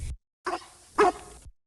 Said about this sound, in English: Lassie followed Matt everywhere, barking and encouraging him.